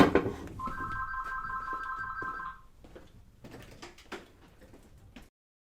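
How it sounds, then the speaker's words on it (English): A door is checked and opened while waiting for a delivery: a ringing bell-like tone first, then sliding and clunking door mechanism sounds, close and moderately loud before fading to quiet. "let me check the door real quick because I am waiting on a delivery"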